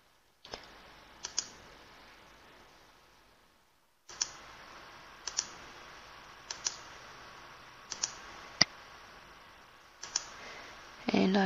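A computer mouse clicks while working in Google SketchUp 8, giving a handful of sharp, close clicks spaced irregularly, some in quick pairs, over a steady low hiss with a short quiet gap early on.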